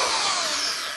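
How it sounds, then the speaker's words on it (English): Power drill boring into metal while a homemade propane burner is being built; a close, loud, steady grinding whine that runs without a break and cuts off at the end. "And now I shall attempt to drill straight."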